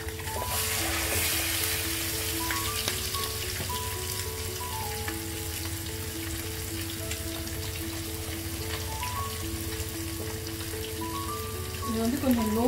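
A salmon fillet fries in a pan over a low flame, giving a steady, even sizzle like light rain that runs the whole time, with tonal music playing over it.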